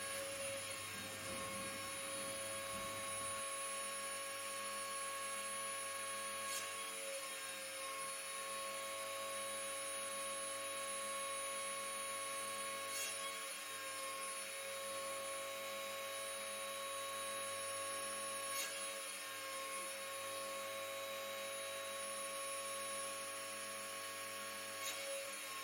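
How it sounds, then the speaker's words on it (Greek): A small stand-mounted bench drill with a 1 mm bit bores holes in a printed circuit board, giving a quiet, steady motor whine with a short rougher drilling burst at the start. "Με ένα μικρό δράπανο πάνω σε βάση και με τρυπάνι διαμέτρου 1 χιλιοστού κάνουμε προσεκτικά τις τρύπες"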